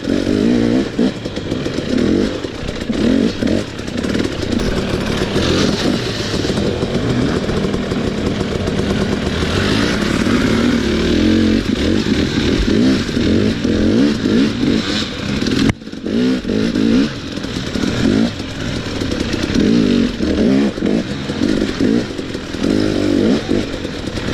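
Dirt bike with a JD jetting kit revs hard and continuously, its loud, raspy engine note rising and falling in quick bursts close by, with no talking over it.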